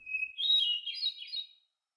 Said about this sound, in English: you may hear the lovely song of the hermit thrush